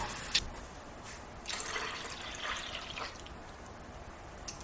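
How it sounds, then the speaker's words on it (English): Water runs into an empty can being filled to the top while making bread pudding, a steady hissing stream with a few drips and splashes, moderately quiet and without talk. "I'm going to fill this to the top with water and then put that in the bowl as well."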